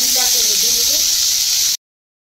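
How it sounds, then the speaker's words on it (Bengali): Vegetables fry in hot oil in a loud, steady hiss and sizzle, under a voice speaking, before the sound cuts off abruptly. "এখন সব সবজি একসঙ্গে ভেজে নিব"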